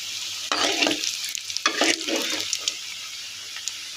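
Bondas deep-frying in hot oil on a low flame, giving a close, bright sizzle and bubbling with bursts of stirring or turning, steady hiss underneath and no talking.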